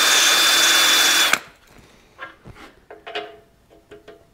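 A cylinder hone spinning in a drill on a Caterpillar D4 transmission case, a loud steady whir for over a second that stops abruptly, followed by scattered light clanks and handling knocks.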